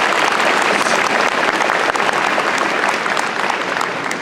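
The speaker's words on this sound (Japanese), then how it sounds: "どうも大きな拍手をお願いいたします。" Audience applause after a Japan Self-Defense Forces band performance at a cherry blossom festival concert: dense, steady clapping that stays loud and even throughout, with no talking.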